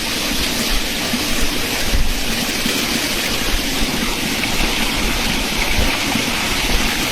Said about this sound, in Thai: เจอลำธารเล็กๆ